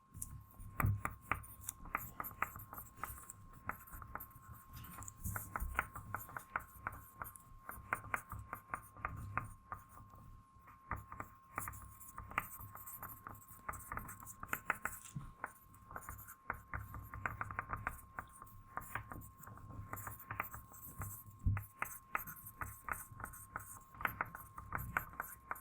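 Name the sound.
students writing on paper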